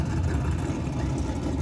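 Race cars run at a racetrack off in the distance, a steady low engine drone rumbling continuously in the background with no distinct pass-by.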